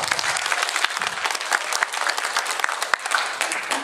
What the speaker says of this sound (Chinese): 我们给大家一个掌声好不好